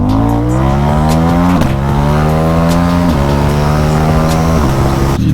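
A Ducati Diavel motorcycle revs hard in first gear, the engine note climbing in several loud, close pulls that each drop sharply before rising again.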